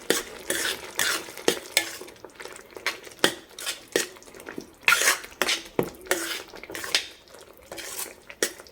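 A tomato pickle mixture is stirred in a pan with a spoon, giving repeated close scraping strokes in an irregular rhythm, each one a short burst over a faint background sizzle.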